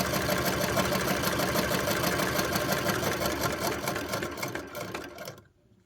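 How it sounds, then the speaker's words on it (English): A sewing machine runs steadily, stitching fabric pieces together with a fast, even mechanical whir that continues loudly for several seconds before stopping abruptly. "I'm going to continue to do this, and I'm going to sew these all together."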